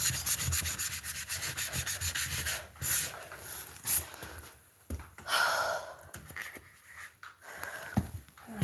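Green grime gets scrubbed off a wall during a mud-season mountain clean, a close, steady rasping rub in rhythmic strokes that pauses, then resumes with softer, uneven scrubbing.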